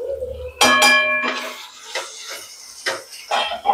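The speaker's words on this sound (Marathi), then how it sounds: "आता मी मसाले मिक्स करते" A utensil stirs spices into tomato in a cooking pan for spicy vermicelli (tikhat shevaya), opening with a sharp metallic clang, then a run of soft scraping clinks against the pan.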